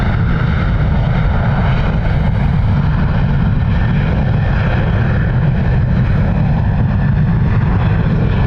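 A Ryanair airliner takes off at Dublin Airport, its engines a loud, unbroken roar that holds steady throughout.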